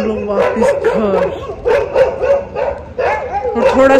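Many street dogs barking and yelping repeatedly outdoors at night, close and loud, in overlapping bursts with whimpers between, on the way home from a wedding in Okhla.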